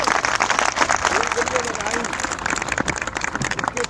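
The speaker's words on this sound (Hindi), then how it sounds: "एक बार ताली बजाओ सभी लोग" Police recruits at a jungle camp break into applause, a dense burst of clapping from a group mixed with voices and crowd noise, continuing for several seconds.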